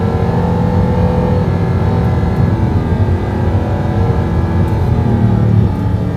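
A high-revving car engine pulls hard under acceleration, a dense sustained roar that holds strong and steady throughout, heard from inside with no talk.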